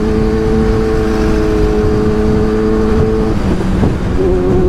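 A motorbike, apparently a Kawasaki H2, accelerates hard along a potholed highway with a loud, steady engine drone and rising pitch toward the end, close and continuous with wind roar and no talk.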